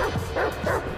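A dog in the video game GTA V gives a few short, close barks and yips in quick succession, with faint game sound behind it.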